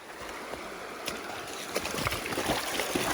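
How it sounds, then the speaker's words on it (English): Hikers fording a river on the Continental Divide Trail, with water splashing and sloshing around their legs as they wade, broken by intermittent splashes close to the microphone under a steady wash of flowing current. "We're fording the river."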